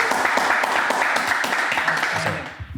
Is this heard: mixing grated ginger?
no